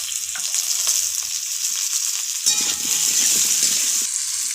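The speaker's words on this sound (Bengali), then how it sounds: "তেল গরম হয়ে গেছে, এবার আলু দিয়ে দেবো।" Potatoes and whole onions dropped into hot oil, a loud bright frying sizzle that surges and stays steady and close, with a brief clattering burst midway, no speech.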